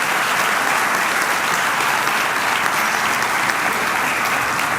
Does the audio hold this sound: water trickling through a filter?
no